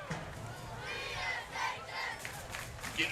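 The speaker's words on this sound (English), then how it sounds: "the Braves student section and cheer crowd and the local fans all getting a little more lively here" A dense, lively roar from the home student section, cheer squad and local fans at a Bonner Springs Braves high school football game against Eudora, with scattered shouts over a steady crowd wash for about three seconds.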